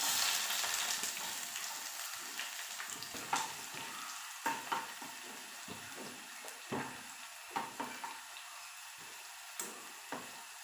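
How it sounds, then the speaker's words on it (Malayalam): Sliced small onions and dried red chilies fry in hot oil for a Kerala mango curry, a steady close sizzle punctuated by occasional stirring clinks and spatters. "പിന്നെ ഒരു 3 ചെറിയ ഉള്ളി വട്ടത്തിൽ ഇങ്ങനെ കട്ട് ചെയ്തിട്ടുണ്ടായിരുന്നു, അത് കൂടി ഇട്ടെടുക്കാം."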